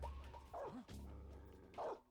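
Guard dog in the stealth video game Metal Gear Solid 3 barking in short yips over game background sound, a few quick barks spread across the moment at moderate distance.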